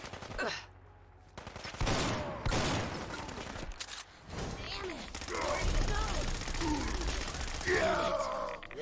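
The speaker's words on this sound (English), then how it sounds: "Got an automatic assault rifle." Automatic assault rifle fire in Fallout 4, sustained bursts of rapid shots running through most of the stretch among other combat noise, with a voice groaning and gasping.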